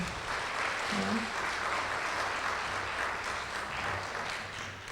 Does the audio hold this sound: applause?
yes